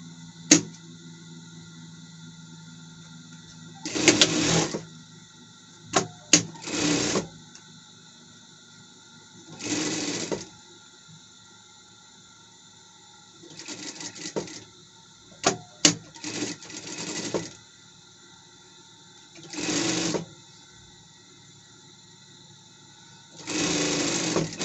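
Domestic sewing machine stitching a seam along fabric collars: several short bursts of fast whirring stitching separated by pauses and small clicks, close and clear with no talk.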